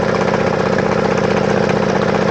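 An outboard boat engine, little used, idles steadily and loudly at close range with an even mechanical drone and no pauses or talk.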